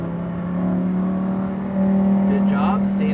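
A Lamborghini Huracan STO accelerating hard around the Las Vegas Speedway track, its engine drone steady and close, rising in pitch and loudness partway through, with an instructor's voice talking over it.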